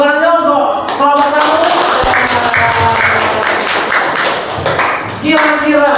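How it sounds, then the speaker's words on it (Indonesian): A classroom of students claps for a student group, with a burst of fairly close, dense clapping that comes between a teacher's spoken lines. "tepuk tangan untuk kelompok"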